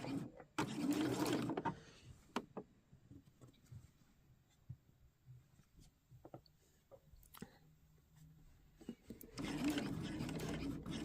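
A sewing machine stitches a quilted triangle Christmas tree at a quarter-inch seam, running in two bursts at the start and end with quiet handling and faint clicks between.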